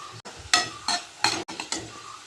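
A spoon stirs chopped tomato and garam masala in a hot pan for chithranna, making four or five scraping, rustling strokes in an uneven rhythm, with a soft sizzle underneath and no talking.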